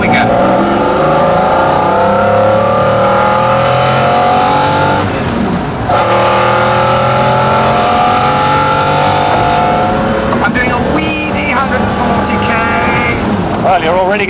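A McLaren F1 road car pulls away from second gear, its engine note climbing loud and close through rising revs, with a brief dip near the middle and a gear change late on. Someone talks over the engine.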